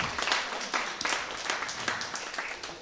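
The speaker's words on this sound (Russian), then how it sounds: "Ну что ж, под ваши бурные аплодисменты мы начнем." Audience applause at an improvised theatre show, fairly quiet and a little distant, with clusters of clapping rising and falling in uneven bursts and no voices over it.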